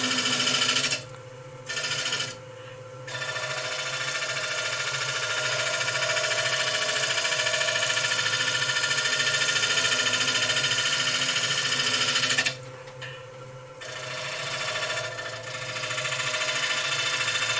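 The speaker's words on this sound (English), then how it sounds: "We'll give it a little sand." Abrasive sanding of a spinning wooden piece on a woodturning lathe, a steady broadband hiss over the lathe's hum, broken by a few brief gaps as the paper lifts away, fairly close and continuous.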